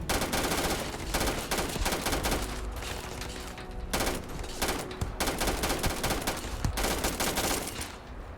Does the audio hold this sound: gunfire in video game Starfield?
yes